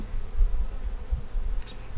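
Honey bees buzz at an open hive, a low close droning hum that swells and dips over two seconds, with no talking.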